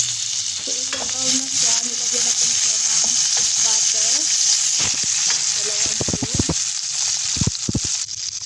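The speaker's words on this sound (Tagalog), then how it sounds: "meron tayong putol-putol na pasta. Isasangag muna natin. Ayan, magbo-brown na siya." Broken pasta pieces toasting in a pan, with a dry, even sizzle under rattling, scraping stirs that speed up into quick clacks of the spoon toward the end. Close and loud, with no speech.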